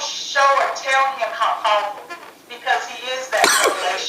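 A single sharp, close sneeze bursts out near the end of steady ongoing speech, briefly cutting across the talking voice.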